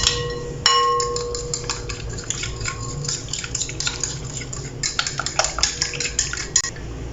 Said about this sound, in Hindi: एग में डाल के तो अच्छे तरीके से हिला लेंगे